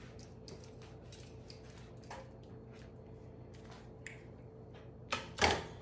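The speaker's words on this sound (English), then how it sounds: "gotta get me a knife and get my bacon cut" A knife cuts through bacon in a home kitchen, giving soft scattered scraping and slicing ticks that end in a brief louder clatter near the close. No one speaks.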